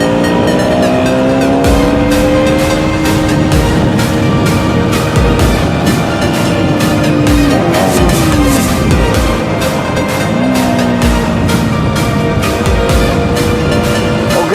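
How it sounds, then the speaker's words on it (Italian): KTM Duke 125 motorcycle, short second gear, engine revving hard and bouncing off the rev limiter, loud and close, with a continuous buzzing, rapidly pulsing exhaust note and pitch sweeps as revs rise and drop. "Con la seconda si raggiunge facilmente il limitatore, essendo che è una marcia molto corta."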